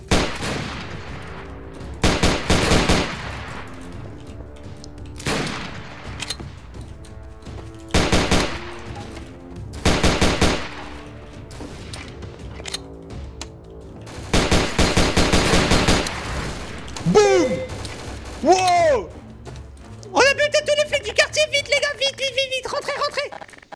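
Repeated bursts of automatic gunfire in Garry's Mod DarkRP, loud volleys of rapid shots separated by short pauses, with voices shouting between them.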